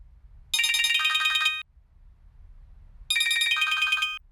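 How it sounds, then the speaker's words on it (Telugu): A telephone rings in two bright electronic bursts of about a second each, separated by a quiet pause over a low background hum. "మధు ఫోన్ చేస్తుంది"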